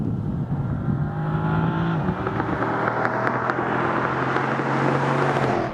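A Dodge Charger SRT with a 6.4 liter Hemi V8 accelerates hard, a deep, steady engine roar rising in pitch through a gear change, loud and heard from inside the car without talk.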